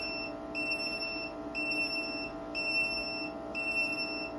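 Low-voltage alarm on an EG4 battery system beeping in a steady rhythm, about one high tone per second, four repeats over a constant electrical hum, with no talk.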